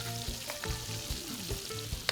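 Onion and garlic sizzle in a hot pan, a steady close frying crackle with occasional stirring scrapes and clinks.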